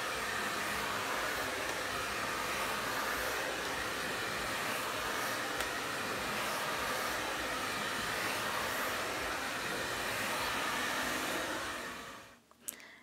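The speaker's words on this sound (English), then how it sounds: "right now it's time to do the hot comb, yeah, and she's going to be doing it to dry my hair" A hot comb runs steadily to dry hair at a village salon, a loud continuous blower-like whoosh that holds for about twelve seconds and then cuts off.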